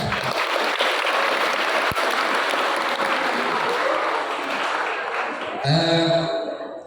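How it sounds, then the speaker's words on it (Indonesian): A crowd at a school Christmas celebration applauds in a long, even roar of clapping that lasts several seconds before tapering off as other sounds cut in near the end. "Jadi tepuk tangan untuk mereka"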